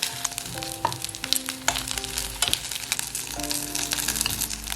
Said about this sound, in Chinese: 需要把火调小一点，不然的话这个年糕煎了会容易焦